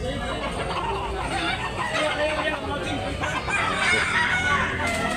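Bullstags, young roosters, at a poultry market in Tabunok, Talisay, Cebu crow and cluck amid a busy, continuous background of market chatter and general noise.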